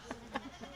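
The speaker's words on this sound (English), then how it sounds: "Goat literally sounds like a saying, ow, ow." A goat at a county fair junior goat show gives a few short bleats, three quick nasal cries spaced about a quarter second apart, fairly faint against the hall's background noise.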